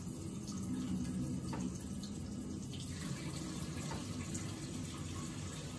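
Steady broadband rush of water running from a tap, continuous and fairly close, with no voices.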